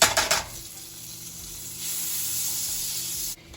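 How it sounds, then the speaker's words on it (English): Butter sizzling in a hot pan while a creamy chicken dish is being cooked, heard as a steady close hiss that swells partway through, with a brief clatter at the start. "So we're gonna add our butter to the pan."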